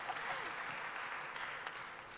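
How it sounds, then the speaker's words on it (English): An audience at a live Bharatiya Mahila event claps in a steady, dense round of applause, faint and distant, with no break across the short stretch. "Please applaud."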